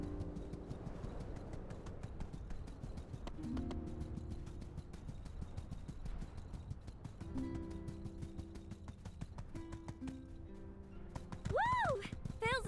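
A horse galloping in the video game My Time at Sandrock, with steady clip-clop hoofbeats running under game music and a talking voice, plus a brief whinny near the end.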